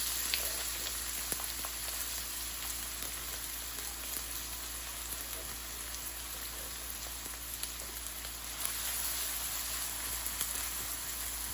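Onions sizzle in hot mustard oil in a pan, a constant even hiss of frying that holds steady from start to finish with no voices.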